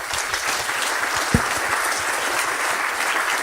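Steady audience applause at a political panel discussion, dense and even clapping from a crowd filling the whole stretch with one sharper clap standing out, no voices over it.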